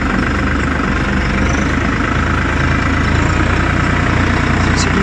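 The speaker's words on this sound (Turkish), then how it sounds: "traktör saat gibi çalışıyor maşallah" A 2021 New Holland TT55 field tractor engine idles nearby with a loud, even, low diesel rumble that holds steady throughout without any talk.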